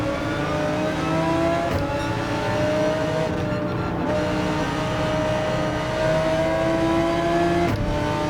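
A GT3 race car in Gran Turismo 7 at full throttle: a loud, sustained engine howl with rising pitch through the gears, brief shift breaks and faint tire noise, no talk.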